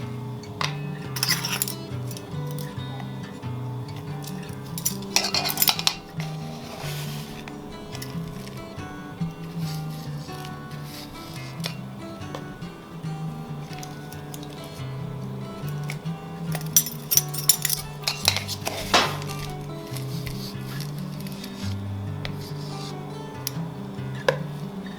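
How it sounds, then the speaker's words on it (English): Sugar, flour, milk and baking powder being mixed for cherry cobbler, with repeated clinks and taps of a utensil against a bowl, clustered in bursts over a steady background hum. "mix in the remaining sugar, flour, milk, and baking powder."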